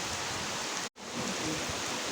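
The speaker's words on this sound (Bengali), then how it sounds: "প্রচুর জোর হচ্ছে বৃষ্টিটা, আর বৃষ্টির ছাট পুরো এই রুমের ভিতরে চলে আসছে।" Heavy rain pours outside an open room, a dense even hiss that cuts out for an instant near the middle and then resumes at the same level, with no talk.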